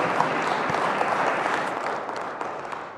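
A room of people claps together in sustained, dense applause at a listening session, holding steady before tapering slightly near the end.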